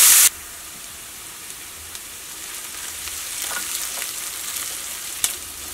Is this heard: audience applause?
no